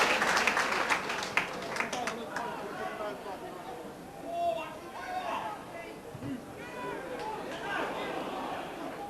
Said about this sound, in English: but he'll get a round of applause anyway